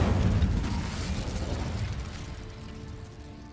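The Incendio fire spell cast in Hogwarts Legacy, a loud roaring whoosh of flame that starts at full strength and slowly dies away over a few seconds.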